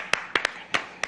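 A handful of sharp, separate hand claps ring out in an uneven rhythm, five in about a second, fairly close and moderately loud, with no voices.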